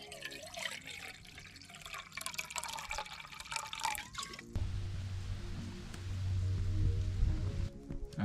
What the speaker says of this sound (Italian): Versiamo 200 ml d'acqua